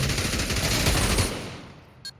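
Rapid bursts of automatic gunfire in a VR esports match, loud and continuous for over a second before cutting off, followed by a single short sharp report.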